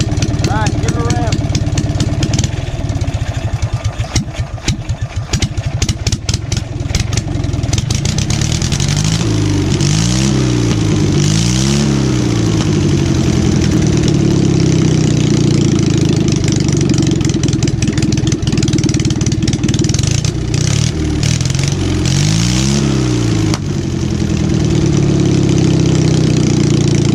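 A mid-size engine runs loud and close, idling with a steady throb and then revving up and down in several rising and falling surges, a voice briefly heard over it.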